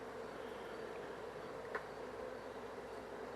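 Honeybees from an open hive hum faintly and steadily in a continuous drone, with a brief nearer buzz passing by partway through.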